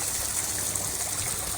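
Water rushes steadily through a pond filter and pours into a garden pond, a close, constant hiss of trickling flow with no pauses.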